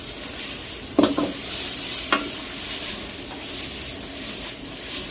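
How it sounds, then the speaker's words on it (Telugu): Fried mango chicken balls are stirred into chilli gravy in a dhaba kitchen. A few firm scraping strokes ring out over a steady, close sizzle, with no voices. "ఆ ఫ్రై చేసిన మ్యాంగో చికెన్ బాల్స్ లాంటి వాటిని ఈ చిల్లీ గ్రేవీ వేసుకొని మిక్స్ చేసుకోవాలి"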